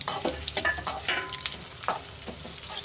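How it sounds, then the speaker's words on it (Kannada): Chillies, coriander seeds, cumin and chana dal fry together in hot oil with a steady close sizzle, broken by repeated stirring scrapes and light taps of a spoon against the pan. "ಮೆಣಸಿನ್ಕಾಯಿ, ಧನಿಯಾ, ಜೀರಿಗೆ, ಕಡಲೆಬೇಳೆ ಎಲ್ಲ ಒಟ್ಟಿಗೆ ಹಾಕೊಂಡು ಫ್ರೈ ಮಾಡ್ಕೊಂಡ್ಬಿಡ್ತೀನಿ"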